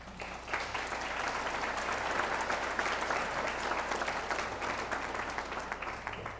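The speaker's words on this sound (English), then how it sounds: "So round of applause." Convocation crowd applauds in a sustained, even burst of many hands, moderately distant in a large hall with a low steady hum beneath.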